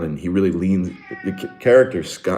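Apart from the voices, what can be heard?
cat meowing in another room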